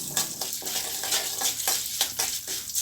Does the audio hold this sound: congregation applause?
no